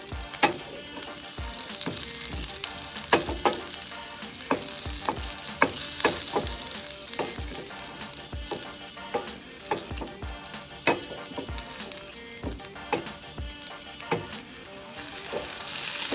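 Pepper, cumin, fenugreek, fennel and curry leaves frying in oil for a stuffed brinjal kuzhambu, a steady crackling sizzle broken by regular spatula knocks against the pan, close and moderately loud.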